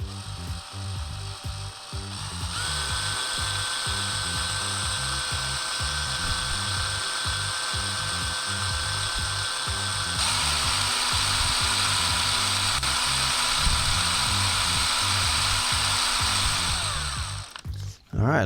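A power drill boring a bolt hole through an electric scooter's kickplate, running as a steady close whine for most of the stretch, shifting pitch partway through, with short bursts of talking at the start.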